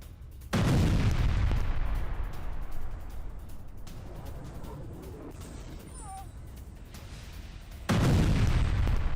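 Rocket attack explosions striking a house in a residential area, carried in news footage: a loud, heavy boom opens, followed by a long rumbling roar of debris and fire, then another powerful blast near the end, with no talk.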